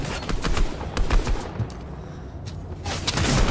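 Shotgun fire in Fortnite: loud, close bursts of gunshots in quick succession, with a brief lull midway before more shots resume.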